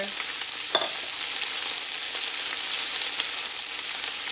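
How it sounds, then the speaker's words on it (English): Leeks frying in hot extra virgin olive oil for a butternut squash and leek soup, a dense, continuous close sizzle with a brief stir or clink near the start, with no talk. "We'll add our leeks in here. Our oil is nice and hot."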